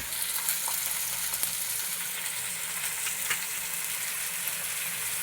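Chopped tomatoes sautéing in hot oil for a sardine fish curry, a steady close sizzle and crackle with a few stirring clicks, no talk.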